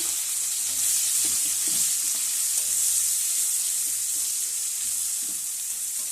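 Black cumin, garlic, onion and green chili fry in oil left over from frying prawns, giving a steady close sizzle with a few soft stirring knocks, alone without voices.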